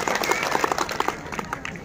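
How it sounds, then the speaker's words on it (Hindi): Applause from a crowd at a farmers' protest sit-in in Mewat, welcoming administration officials; a brief patter of many hands with murmuring voices beneath. "एक बार साथियों जोरदार तालियों के साथ प्रशासन अधिकारियों का स्वागत किया जाए।"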